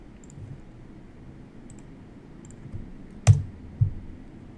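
Typing a CMake command on a computer keyboard: a few sparse, faint key clicks followed by two sharper, louder taps near the end, with no talking.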